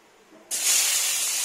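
Black mustard seeds and dry red chillies hit hot oil, a sudden bright hissing sizzle bursting in after a quiet moment and holding steady and close.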